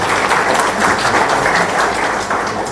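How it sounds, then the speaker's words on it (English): A crowd applauds steadily and loudly throughout for three teachers at the KCPE 2018 results release in Kenya, a dense wash of many hands clapping with no break. "let's give a round of applause to these 3 teachers"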